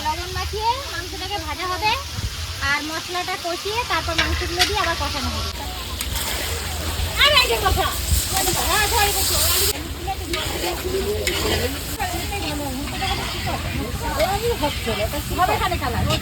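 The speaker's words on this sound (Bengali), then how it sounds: "মাংসটা এখন ভেজে নিচ্ছে" Meat frying in a pan, a loud, continuous sizzle and hiss with stirring and occasional sloshing, heard under ongoing conversation between people.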